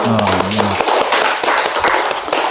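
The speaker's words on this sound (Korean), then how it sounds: "우리 다 같이 박수 한번" Church congregation clapping together after a Sunday service announcement, loud dense applause from many people close by, with a brief spoken voice at the start.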